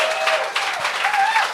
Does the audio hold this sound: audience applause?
yes